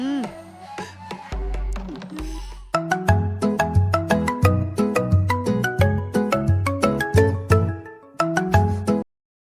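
A mobile phone rings out after a call is dialed. The ringtone is a bright, melodic electronic tune with repeating chiming notes that plays for several seconds and then cuts off abruptly.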